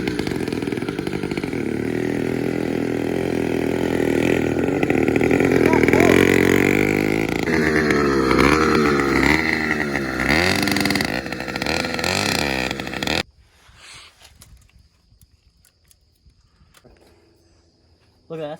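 A motorized bicycle's small two-stroke engine runs roughly and loudly up close, its revs surging and sagging unevenly, then abruptly cuts out, leaving near silence before a faint sound returns at the end.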